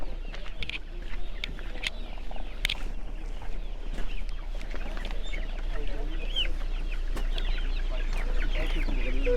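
Roosters and hens cluck and call at a busy outdoor market, with scattered crows and sharp squawks over a constant bustle, while people talk nearby.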